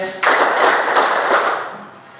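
Children clap together during a classroom clapping game in a fourth-grade physical education lesson, producing a loud burst of dense clapping that gradually tapers off.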